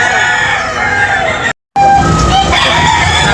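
A rooster crows loudly and close at a chicken market in Tabunok, Talisay, Cebu, its call broken by a brief silent cut midway before resuming with more crowing and clucking.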